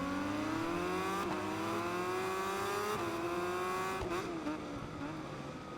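A race car in a racing game brakes into a corner: the engine note climbs steadily and then drops in stepped downshifts as it slows. The engine is loud and close, with no voices.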